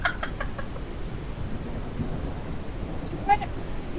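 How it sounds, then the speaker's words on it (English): Rain and thunder in the farming video game Ranch Sim: a steady, dense rain hiss with low rumbling underneath throughout, and farm bird calls from chickens standing out near the start and again briefly later. "Raining."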